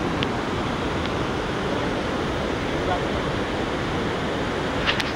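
Devkund waterfall in Similipal, Odisha, during the monsoon gives a dense, continuous roar of rushing water. The sound is loud and close, with no break.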